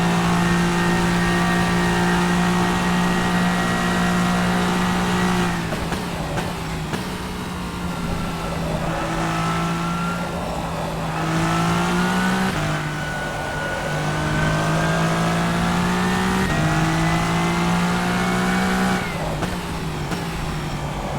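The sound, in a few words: LMD Hypercar engine racing in video game rFactor 2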